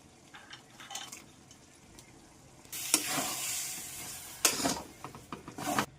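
Cashews dropped into a hot pan of khichdi, sizzling and frying as they are stirred, with quiet scrapes early on, then a louder continuous sizzle and bursts of stirring.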